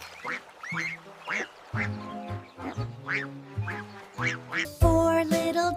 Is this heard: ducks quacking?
yes